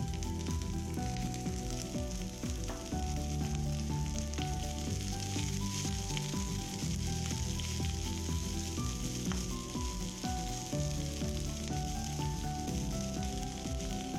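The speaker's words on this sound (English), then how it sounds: "I add cumin seeds and curry leaves and toast them for 5 seconds. Then I add the diced onions," Diced onions and shallots fry in hot oil with cumin seeds and curry leaves, giving a loud, steady sizzle that runs unbroken and close throughout.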